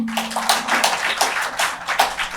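An audience at a Sunday spiritual talk about Holi claps together in a quick, continuous flurry of sharp hand claps, close and fairly loud for about two seconds.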